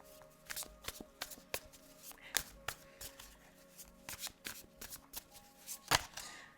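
Tarot cards shuffled close up in a quiet room, a run of quick papery riffles and soft slaps in irregular bursts, with faint voices in the background.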